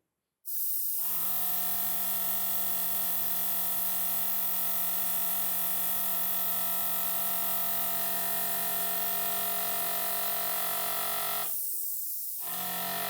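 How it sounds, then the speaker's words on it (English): A Gaahleri airbrush with a 0.2 mm nozzle sprays with its MAC valve wide open, a loud, steady continuous hiss of air that starts abruptly and runs for about eleven seconds before cutting off. "what this MAC valve does to the spray pattern as it comes out of the airbrush"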